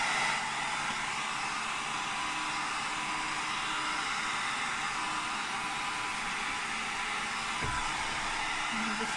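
A hair dryer blows with a constant loud rushing whoosh, running steadily without pause.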